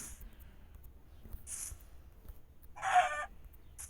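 A lava chicken in a video game gives a few short, separate clucks and squawks over a faint low hum, with a quiet, fairly close tone.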